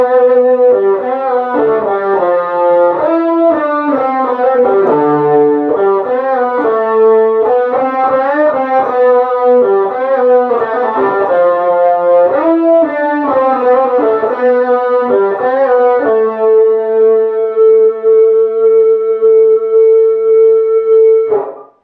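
Two distorted electric guitars play the chorus melody line, a steady run of quick notes ending on a long held tone, loud and close with no talk.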